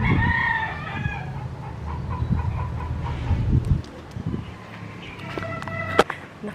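A rooster crows at a rural Philippine house, one long call at the start followed by softer clucking, shuffling and scattered background noises, with a short second crow near the end.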